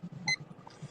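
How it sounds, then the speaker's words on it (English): A debate timer beeps once, a short bright electronic tone set among low murmuring sounds and faint room noise. "So I'm gonna hit the timer."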